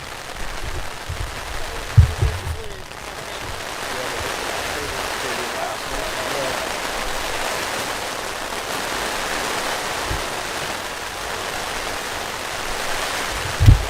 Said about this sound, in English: More rain continues to come down here